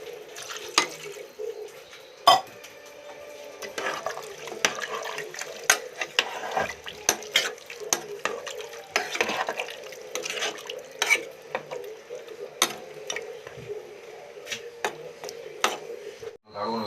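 Chicken curry with salt being stirred in a pot, a steady run of close scraping and clinking strokes with irregular sharp knocks against the pot over a light wet background.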